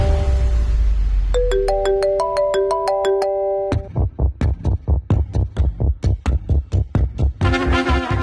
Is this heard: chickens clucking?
no